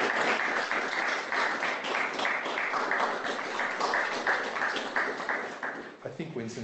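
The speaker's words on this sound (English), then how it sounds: "Would you just give each other a round of applause?" A group of students applauds one another, clapping steadily and closely for about six seconds before trailing off as talk resumes.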